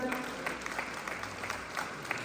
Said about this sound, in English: Let us clap hands for Old Mutual